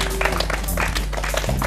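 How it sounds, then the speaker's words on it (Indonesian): A small group of Persiba Balikpapan football supporters claps in a talk-show setting, scattered applause over a low steady hum. "Tepuk tangannya dong"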